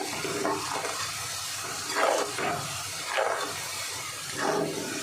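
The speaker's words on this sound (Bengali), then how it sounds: "হাই ফ্লেমে দিয়ে আলুটা ভাজা করতে হবে।" Shredded potatoes for jhuri aloo bhaja fry in oil over a high flame, giving a constant soft hiss with a few rhythmic scraping stirs about a second apart, fairly quiet and free of talk.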